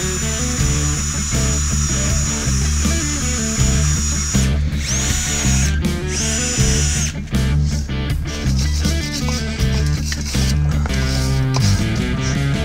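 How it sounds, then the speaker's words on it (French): A power drill spins a metal wire brush to clean brake contact surfaces, a loud, close whine with stops and restarts and scraping bursts against the metal. "on va venir nettoyer les surfaces de contact avec la perceuse et la brosse de métal"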